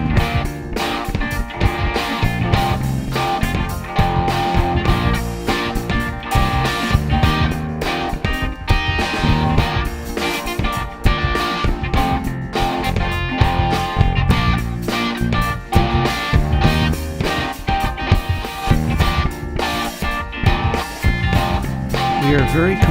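Heavily compressed kick drum with deep, strong lows thumps through a dense, loud mix, pounding steadily for the whole stretch with no voices.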